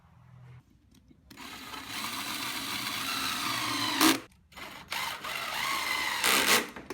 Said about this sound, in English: I just took off that sharp corner on the top edge with a 5mm round over bit in my trim router.